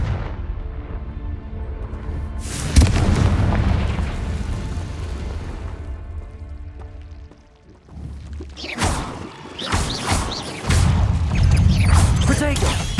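Confringo fire spell blasts in the Hogwarts Legacy video game during a fight with poachers, loud booming explosions with rumbling decay and sharp bursts later, with a voice speaking over the combat.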